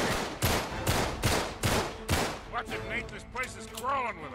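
Pistol fire in the video game Uncharted 3: Drake's Deception: five loud, close shots at a steady, moderate pace, then softer scattered game effects and sweeping tones.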